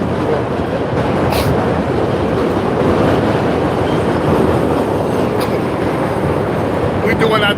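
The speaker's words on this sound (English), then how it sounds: "The train, yeah." A train rumbles past at close range on a live stream, a loud steady broadband roar with rail clatter holding for several seconds, and faint voices are mixed underneath.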